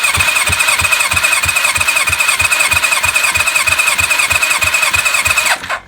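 A Kawasaki ZL600 Eliminator motorcycle engine cranks over with the throttle wide open during a compression test on cylinder three, a loud, close, evenly pulsing churn that runs for several seconds before cutting off abruptly.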